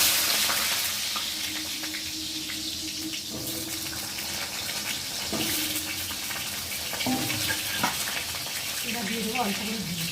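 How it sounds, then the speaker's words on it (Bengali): Potato pieces frying in hot oil with a little salt, a steady sizzling hiss running throughout, with a voice talking now and then underneath. "এখন আমি আলুগুলোকে ভেজে নেব"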